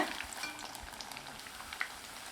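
Flattened rice vada fries in hot oil with a soft, steady bubbling sizzle and scattered small pops, heard up close and fairly quiet.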